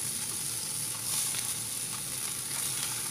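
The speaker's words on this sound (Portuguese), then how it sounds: "E vou fritar o restante." Meat bolinhos frying in hot oil, a continuous close, soft hiss and crackle of sizzling with faint bubbling pops, steady throughout with no voices.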